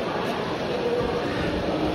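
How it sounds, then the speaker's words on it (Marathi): A train pulls into Panvel railway station amid a busy platform crowd, a steady dense rumble and rattle of rail cars filling the scene without clear speech. "आणि ट्रेन आले जस्ट."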